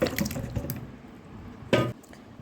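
Amla gooseberries are washed by hand in water, giving a few soft splashing and sloshing bursts, a quieter trickling stretch, then one louder splash near the end, close and without talk.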